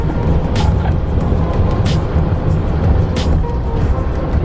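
Old 2008 Class A RV cruising on a freeway, a loud continuous low engine and road rumble with wind noise, broken by a few brief hissing whooshes of passing traffic.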